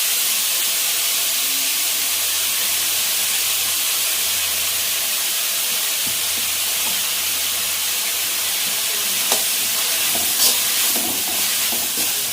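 Vegetables half-cooking in a pan with salt for chicken fried rice, a continuous loud hiss and sizzle of steam and frying, steady throughout with a few faint stirring scrapes near the end, no voices.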